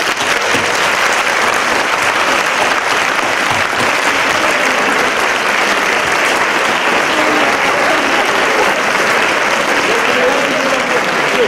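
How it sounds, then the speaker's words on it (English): Long, sustained applause from a large graduation audience honoring the teachers, a dense, loud, even roar of clapping that holds steady the whole time. "I want everyone to give a lengthy, warm, loud round of applause for the teachers"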